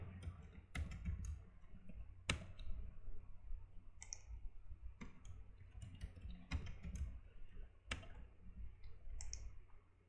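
Password being typed on a computer keyboard, a run of sharp isolated clicks and taps at an uneven pace over a low hum, close and fairly quiet, no talk.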